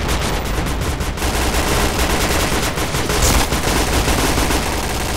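Sustained rapid gunfire from the online shooter video game Point Blank, loud automatic bursts rattling almost without a break throughout.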